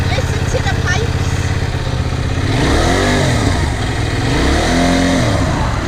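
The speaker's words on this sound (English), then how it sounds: "Do you want to just start the bike there? Press start. Listen to the pipes." A Benelli Leoncino 800 Trail motorcycle starts up, then its exhaust rumbles through two throttle blips over heavy wind noise while a person talks.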